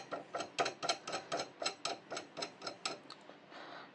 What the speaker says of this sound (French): On va resserrer les boulons.